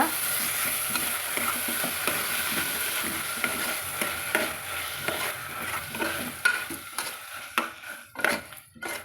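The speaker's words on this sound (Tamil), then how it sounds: "நம்ம அரிசி சேர்த்து கலந்து விட்டுக்கலாங்க" Rice and green gram are stirred in a pot for one-pot pachai payaru rice, with a spoon scraping and clattering against the metal amid a light sizzle, steady and close.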